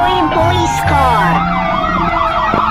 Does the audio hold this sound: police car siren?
yes